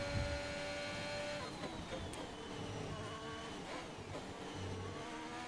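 A Formula 1 race car engine in a racing video game on the final lap at the France circuit whines at high pitch, shifting gears with falling and rising tones, steady and continuous without talk.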